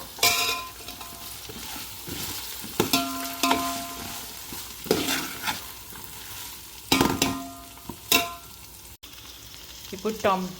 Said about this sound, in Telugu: టొమాటోలు కూడా వేసేసి కలుపుతున్నాను